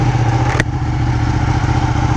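A Ducati 1299 Panigale motorcycle engine runs steadily at close range, a loud, continuous rumble with a brief sharp click near the start.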